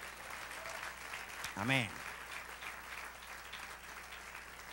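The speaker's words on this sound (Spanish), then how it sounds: "Dale un aplauso al Señor." Church congregation applauding during a sermon, a faint, diffuse wash of clapping in the background while a voice briefly calls out.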